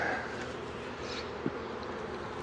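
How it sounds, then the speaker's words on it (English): A steady, faint buzzing of honeybees drifts up from frames pulled out of a nuc being installed into a new hive. A single soft tap sounds partway through. "Here's a bunch of bees."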